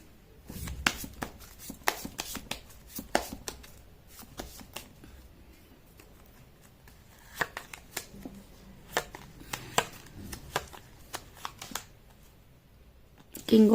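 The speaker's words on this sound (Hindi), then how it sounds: "मैं कर लेती हूँ कार्ड की शफलिंग।" Tarot cards being shuffled by hand, a run of soft close riffles and taps in irregular bursts over several seconds, with a voice faintly present at times.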